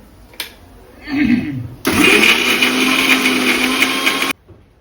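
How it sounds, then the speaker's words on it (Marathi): Electric mixer grinder blending green chutney in a home kitchen: a brief rustle, then a loud, steady motor whine that starts abruptly, runs about two and a half seconds and cuts off sharply. "ती आता मिक्सर लावते इकडे"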